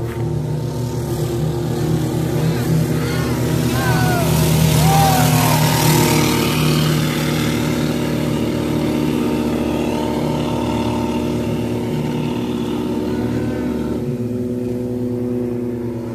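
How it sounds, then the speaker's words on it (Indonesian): A car engine runs inside a modified fiberglass jet boat driven by a jetski water jet. It holds a steady, loud mechanical hum with a slight rise in the middle, and brief voices sound over it. "mesin mobilnya hidupin"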